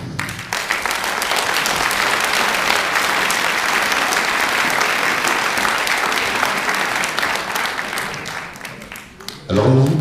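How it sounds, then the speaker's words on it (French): An audience at a 2016 concert by a French music group applauds a young clarinet player, sustained dense clapping near and loud for about nine seconds before it fades, with a voice briefly audible at the end. "Je voudrais vous la présenter et que vous l'applaudissiez."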